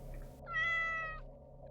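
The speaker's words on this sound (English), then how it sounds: "I followed the sound to a black cat at my foot" A black cat gives a single drawn-out meow close by, rising and fading over about a second, against a low steady background hum in a dark quiet setting.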